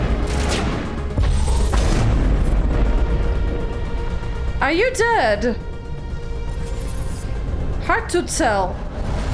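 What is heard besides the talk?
gunfire from the video game Mass Effect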